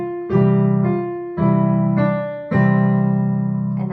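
Piano chords played with both hands, three sustained chords struck in turn with a low bass note under harmonic upper notes, each ringing and slowly fading before the next, close and clear with no talking.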